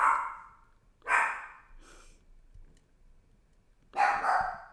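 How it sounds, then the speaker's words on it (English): Dogs bark close by in several loud bursts with short pauses between, the last bark longest. "I'm sorry about the dogs."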